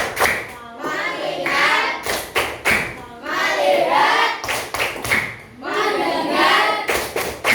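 Schoolchildren in a classroom perform a rhythmic focus-clapping routine, sharp bursts of group claps in set patterns alternating with the children chanting words together, close and lively.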